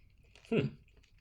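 A single close, crisp bite into a white creme candy bar with sprinkles and popping candy, followed by brief crunchy chewing, loud against a quiet background.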